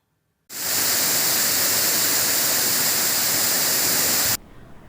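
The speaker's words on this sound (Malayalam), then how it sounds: "ആര്യൻകാവ് പാലരുവി വെള്ളച്ചാട്ടവും മെലിഞ്ഞു." Palaruvi waterfall at Aryankavu, thinned by the dry season, roars in a dense steady rush that starts abruptly, holds for several seconds, then cuts off sharply.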